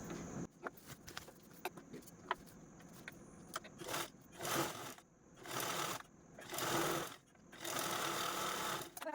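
A sewing machine stitches a zipper onto a cloth purse, with light ticking and handling first and then four steady running bursts close by.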